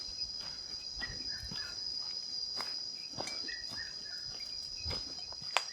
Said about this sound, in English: it's amazing, these sun beetles, the noise they can produce sometimes